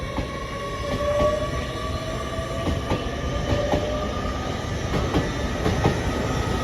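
An LNER Azuma train, unit 801226, running through Doncaster station on the London King's Cross to Edinburgh Waverley service, with a steady rolling rumble, rising electric whine and rhythmic wheel clicks, close and continuous throughout.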